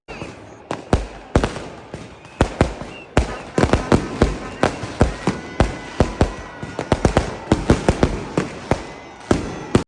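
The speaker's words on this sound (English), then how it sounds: "We watched the fireworks" New Year's fireworks in Sighnaghi, Georgia crack and pop in rapid irregular bursts, loud and near, with sharp explosive bangs overlapping throughout.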